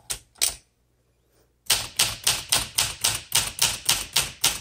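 A 1965 Olympia SM9 manual typewriter with plastic square keys being typed on: a couple of crisp key strikes, a brief pause, then a quick even run of about a dozen sharp clacks, close and alone.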